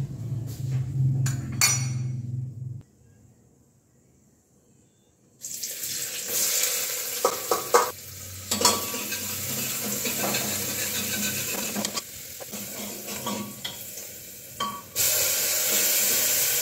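Vegetables sizzle in a pan after a spiced tempering is added, giving a dense hissing crackle with clattering utensil knocks. The sound drops almost silent for a few seconds, then resumes strongly.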